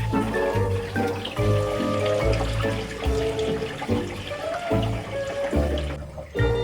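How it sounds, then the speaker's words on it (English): Water pours into a van's fresh water tank, a continuous gushing and splashing fill with rhythmic gurgling pulses as the tank takes on water. "Okay, our water tank is being filled."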